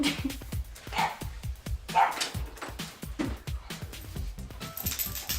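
A dog barks repeatedly indoors, a run of short sharp woofs and yips spaced irregularly across several seconds, fairly close and clear with no talk over it.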